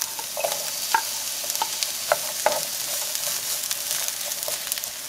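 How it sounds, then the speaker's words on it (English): Onions sauteing in hot oil in a pan make a continuous close sizzle, broken by several sharp scraping stirs and utensil taps at irregular intervals. "Once your oil gets nice and hot, you're going to go ahead and start sauteing your onions."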